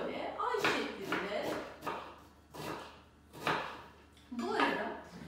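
A knife cuts a whole onion into crescent slices on a kitchen board, giving a few scattered, soft chops. Someone talks over the cutting throughout.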